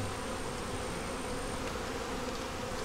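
Honey bees buzz continuously during a hive inspection with a yellow queen, eggs and brood, in a dense, even hum that fills the whole stretch up close with no talk.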